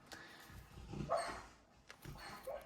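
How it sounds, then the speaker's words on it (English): Sleeping dog whimpering in a dream, two faint, soft whines with small yips about a second apart, quiet and close in an otherwise still room. "if you hear a noise, my dog, she is dreaming"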